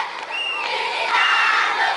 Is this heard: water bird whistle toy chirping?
no